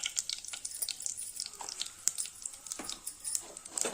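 Mustard seeds, cumin and asafoetida hit hot oil in a pan, crackling and popping in quick, sharp spits over a continuous sizzle, close and fairly loud with no talking.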